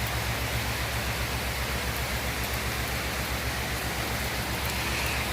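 Light rain falls on a rooftop, a constant, even hiss of drops pattering without letup, close and fairly loud with no voices over it.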